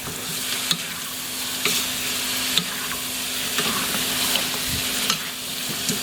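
Chicken adobo stirred in a hot pan, a steady sizzle close by, broken every second or so by the scrape and clack of a spatula against the pan, with no talking.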